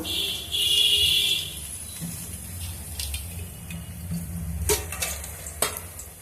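Oil heating in a pan for sambar gives a low, steady sizzle with a few brief clinks and scrapes close by, with no talking.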